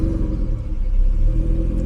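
A 1986 BMW 635CSi E24 with a 5-speed, started cold, gives a steady, loud, low rumbling idle close by, with no voices.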